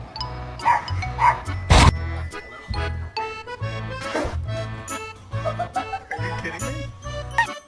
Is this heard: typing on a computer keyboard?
no